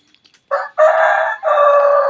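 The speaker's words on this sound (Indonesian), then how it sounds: "Ada suara korongok ayam sepertinya" A chicken crows loudly and close by in a coop, giving one short call followed by two longer drawn-out crowing phrases with no talk over them.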